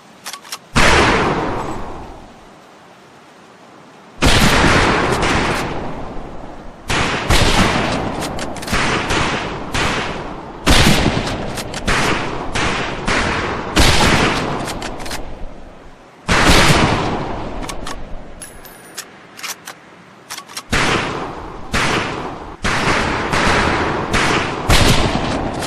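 Rifle volleys at a firing range in Medal of Honor Pacific Assault: loud, sharp gunshots fired in bursts of overlapping reports, with short quiet gaps between the strings of fire.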